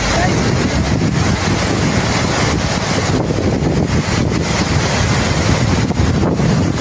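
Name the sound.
wind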